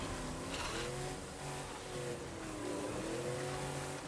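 A zombie-smashing car in a survival video game drives along with a steady, low engine drone that rises and falls a little, quiet and continuous, with no other sounds.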